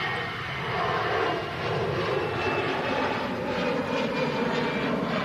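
An airliner taxiing along an airport toward Terminal 3, a steady mid-distance jet engine roar that stays fairly even without much change.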